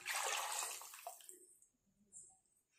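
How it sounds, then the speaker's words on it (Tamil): Tamarind water poured into a cooking pan while making fish curry, a short splashing gush that fades within about a second and a half, followed by quieter sizzles and light clinks. "இப்போ நம்ம புளித்தண்ணி ஆட் பண்ணிக்கலாம்."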